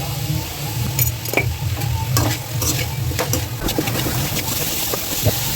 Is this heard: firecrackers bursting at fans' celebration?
no